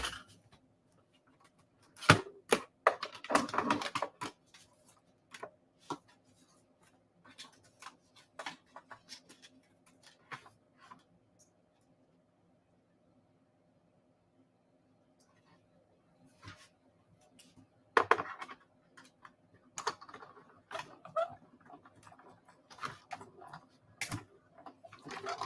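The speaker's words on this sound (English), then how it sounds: "I'm going to go ahead and die cut another one." A die cutting machine running a card through, producing bursts of clicking and rattling mechanical noise separated by quiet pauses, fairly close and moderately loud, with no talking over it.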